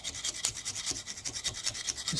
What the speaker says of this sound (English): Sanding with some semi-fine grit sandpaper on both sides.